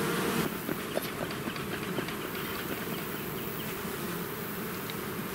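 Honeybees being moved into a new wooden hive with frames of brood and honey make a dense, steady buzz that fills the air without pause. No one speaks.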